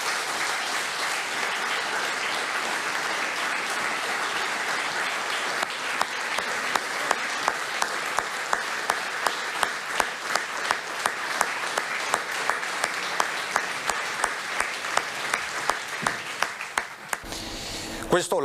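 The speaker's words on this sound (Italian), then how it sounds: "Questo l'applauso tributato dai Dem a Mattarella" Sustained applause from a Democratic Party gathering in tribute to Italian President Sergio Mattarella, a broad steady wash of clapping that grows sharper and more rhythmic partway through, with distinct claps punctuating it before it fades.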